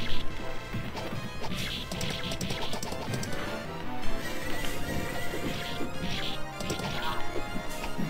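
In the Capcom arcade beat 'em up Warriors of Fate, a horse whinnies amid repeated smashing combat hits, thuds and clip-clopping hooves, with busy game music underneath and a voice talking at times.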